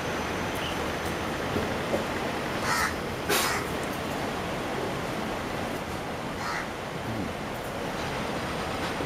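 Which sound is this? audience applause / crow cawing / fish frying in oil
crow cawing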